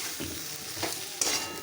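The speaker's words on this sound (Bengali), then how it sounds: "হলুদ, লঙ্কা গুঁড়ো সব দিয়ে ভালো করে কষিয়ে নিলাম।" Soybean and potato curry sautéing with ginger, cumin, turmeric and chilli powder: a soft, low sizzle with a few spoon stirs scraping the pan, no voices.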